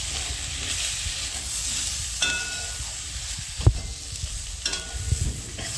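Coriander and chilli powder sauté in a pan with a soft, steady sizzle, broken by a few sharp scrapes and clinks of a spoon stirring against the metal.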